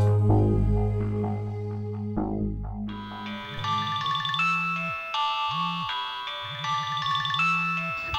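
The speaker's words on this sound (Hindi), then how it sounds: "सुनो, फोन नहीं उठाना, फोन मत उठाना प्लीज।" A mobile phone rings in a domestic drama scene, first with a few descending chime notes and then a repeating bright melodic ringtone with a low buzzing vibration pattern underneath, clear and moderately loud.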